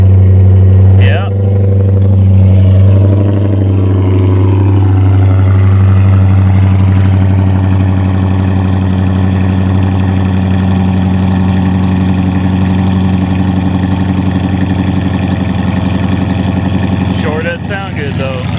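A RAM 3500 Cummins diesel truck with its mufflers cut off runs with a deep, loud, steady rumble, briefly revving near the start before settling into a throbbing idle, while people talk over it.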